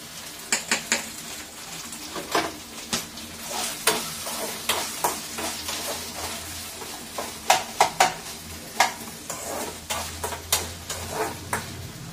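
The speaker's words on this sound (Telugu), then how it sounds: "దీంట్లో ఉల్లిపాయ పచ్చిమిరపకాయలు వేసేస్తున్నాను ఈ టమాటా కూరలోకి." Onions and green chillies frying in hot oil for a tomato curry, with a steady sizzle under repeated sharp clinks and scrapes of a spoon stirring against the pan, close and fairly quiet.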